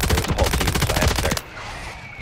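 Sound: gunfire in the video game Call of Duty

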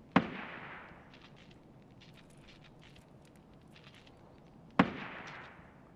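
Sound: gunshots in Escape from Tarkov video game

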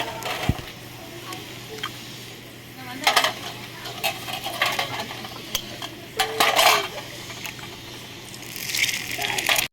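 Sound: beaten eggs being stirred and sautéed in a pan

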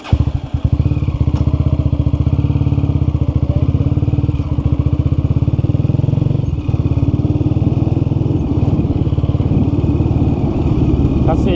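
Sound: Honda CG motorcycle engine running

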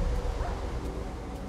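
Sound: dog yelping when struck in Minecraft video game

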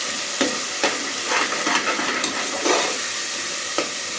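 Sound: tomatoes sautéing in a pan

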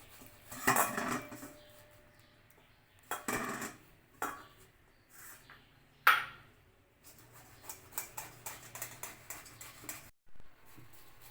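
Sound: grating boiled raw banana and potato

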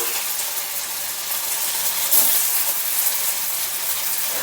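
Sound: soybean muitha dumplings frying in hot mustard oil

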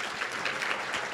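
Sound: conference audience applause

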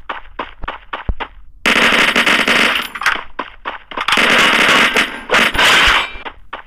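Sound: gunfire in the Free Fire Max video game

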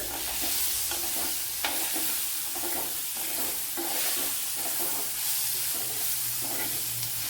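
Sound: tapioca masala sautéing with tomato

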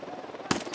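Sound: gunfire in video game Ghost Recon Wildlands

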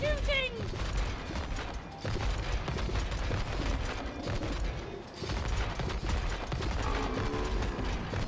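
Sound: gunfire in video game It Takes Two

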